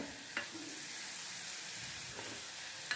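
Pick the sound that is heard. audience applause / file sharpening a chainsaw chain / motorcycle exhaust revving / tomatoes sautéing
tomatoes sautéing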